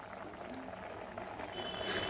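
Lentil fritters, both raw and fried, simmer in a sour green-mango curry broth, giving off a soft, steady bubbling that stays faint and close throughout, with no voices.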